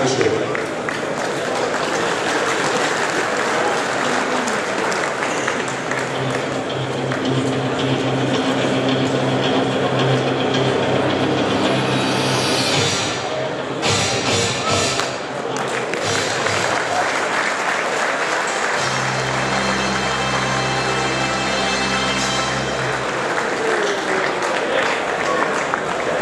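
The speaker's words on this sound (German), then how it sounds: "ich bitte Sie dann um einen extra großen Applaus für die Siegerin" A crowd at a cattle show applauds the winning cow, with sustained, dense clapping that fills the hall and some voices mixed in.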